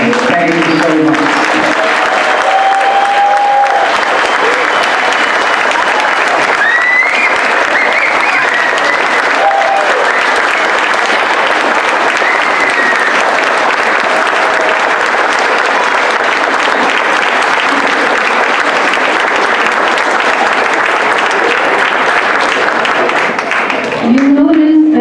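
Audience applause at a gold medal presentation ceremony for Filipino World War II veterans, sustained dense clapping from a large crowd lasting the whole stretch, loud and even with a few faint voices mixed in.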